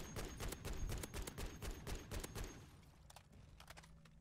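Rapid bursts of M4A1 rifle fire in MW3 Zombies, sharp repeated shots crowding the first half and thinning into scattered quieter bursts toward the end, with no talk over them.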